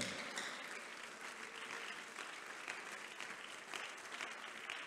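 Congregation applauding during a Spanish-language church service in Houston, a dense, steady wash of clapping from many hands that fills the space evenly with no voices standing out.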